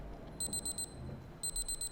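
An alarm clock in the video game Far Cry 4 rings in two short bursts of rapid, high electronic beeps separated by a brief pause, over a low rumbling game background.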